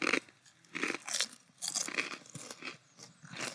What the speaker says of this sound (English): ASMR chewing.